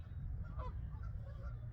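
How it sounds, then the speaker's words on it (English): A goose honks right at someone's feet beside a lake, faint short honks over steady low outdoor rumble and wind. "I have to keep an eye on this goose because he is"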